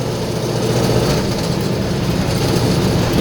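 A GAZ-66 truck engine with a suspected worn connecting-rod bearing and its oil pressure warning lit runs steadily up close. The loud, continuous drone carries a dense rhythmic knocking throughout, with no talk.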